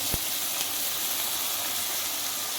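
Chopped onion and green chillies fry in hot oil, giving a steady soft sizzle and hiss with a couple of faint clicks near the start.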